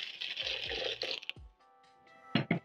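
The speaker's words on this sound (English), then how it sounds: "And once done, I'm going to add in 1 cup of water." Water poured from a cup into a cooking pot of mogodu (tripe) in tomato sauce, a brief close splash and trickle in a home kitchen, followed by a short quieter pause and a final burst of liquid.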